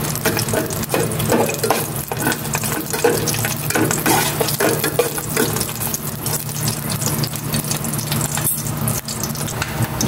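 Garlic sautéing in hot cooking oil, a steady loud close sizzle and crackle running without a break, with no talking.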